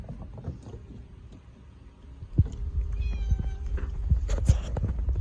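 A cat meows a few times, fairly close, over wind and water noise outdoors, with some knocking and thumping sounds.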